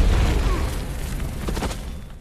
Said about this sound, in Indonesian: memilih untuk meledakkan dirinya sendiri dengan menggunakan sebuah granat